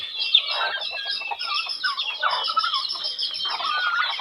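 A crowd of young chicks peep nonstop in a pen, many overlapping high chirps close by, steady and busy throughout with no talking.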